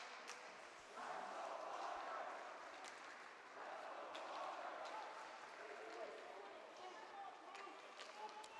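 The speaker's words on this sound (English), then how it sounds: "Arlington faithful to the far left side of us cheering on their team" Arlington fans cheer at a high school boys varsity hockey game, a steady distant crowd roar swelling in waves across the rink, with a commentator talking over it.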